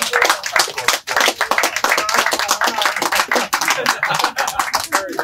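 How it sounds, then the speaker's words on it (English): Dense clapping from a crowd at a toy fair gathering honouring wrestler Terry Funk, loud and close, with quick irregular hand claps sustained throughout and a brief dip near the start. "So, just a round of applause."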